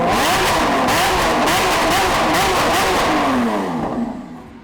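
A Lamborghini engine revs hard after a cold start, a loud, continuous roar that rises and falls with throttle blips for about four seconds before easing off and fading at the end.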